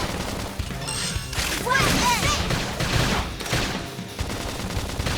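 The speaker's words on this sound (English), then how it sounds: "Topple them with gunfire." Rapid bursts of gunfire in Xenoblade Chronicles X Definitive Edition crackle amid crashes and impacts, a dense barrage of shots layered with chaotic combat effects.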